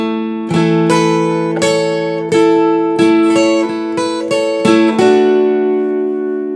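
Acoustic guitar picks two bars of a song, clean, close and alone, with clear plucked notes ringing over a steady rhythm and a final chord left to sustain.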